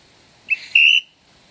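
A survival signal whistle gives two shrill blasts, a short chirp followed by a longer piercing tone of about a quarter second, loud and close against a quiet background.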